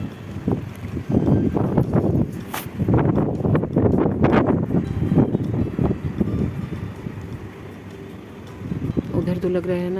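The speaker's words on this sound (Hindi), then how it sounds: "बहुत जोरों की आंधी चल रही है" Strong dust storm wind blowing at night, a steady loud rush and buffeting against the microphone, with a person speaking over it throughout.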